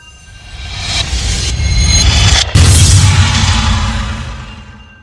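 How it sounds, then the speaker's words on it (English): An explosion sound effect during a horror story reading: a deep rumbling boom that swells up over a few seconds, holds loud with a sharp break midway, then fades out, with no voice over it. "A huge explosion came forth from the book, knocking everyone in the room back several feet."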